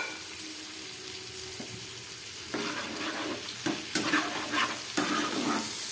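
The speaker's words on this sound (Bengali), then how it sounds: "খুব ভালো করে সঙ্গে ভেজে নিচ্ছি" Stone-ground paste of cumin, dried chilli, ginger and black pepper fries in a pan for a fish curry, a low sizzle swelling louder partway through with several stirring scrapes and pops, no speech.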